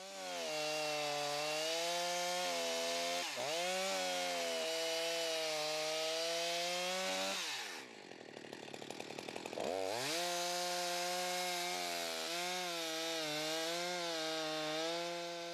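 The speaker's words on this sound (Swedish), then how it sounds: "På det här ganska grova trädet jobbar Stefan med instick" Chainsaw plunge cutting into a fairly thick tree during felling, with the engine held at a steady high whine, briefly dipping and bogging in the wood before revving back up, loud and close throughout.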